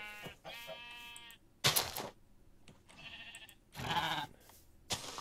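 Sheep in the Minecraft StoneBlock 2 modpack bleating, several separate nasal game bleats in bursts with short gaps between them, fairly quiet and clear with no talk over them.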